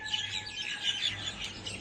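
Several birds chirp and tweet steadily at dawn in a quiet outdoor setting among trees around houses, with soft overlapping calls and no voices.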